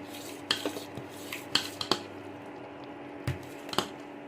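A spoon stirring sugar syrup with cardamom in a pan, a series of irregular metallic clinks and scrapes over a quiet background with a faint steady hum.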